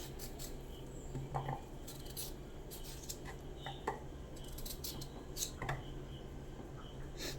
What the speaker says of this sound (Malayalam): നമ്മൾ കിഴങ്ങെല്ലാം തൊലി കളഞ്ഞ് കഴുകി എടുത്തിട്ടുണ്ട്. ഇനി നമുക്കൊന്ന് അരിഞ്ഞെടുക്കാം.